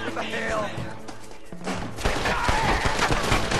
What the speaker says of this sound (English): I'm gonna use the repeater carbine